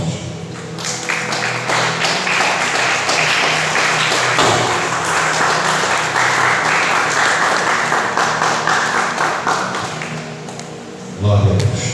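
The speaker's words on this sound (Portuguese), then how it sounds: "Aplauda o céu bem forte." A church congregation breaks into loud, sustained applause during a service, with a crowded patter of clapping that lasts several seconds before ending in a few louder thumps.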